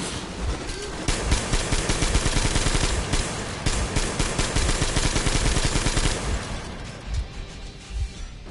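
Sustained gunfire in the post-apocalyptic shooter Metro Exodus, rapid loud bursts of shots firing in quick succession for several seconds, then thinning into a few scattered pops as the shooting tapers off, with no talking.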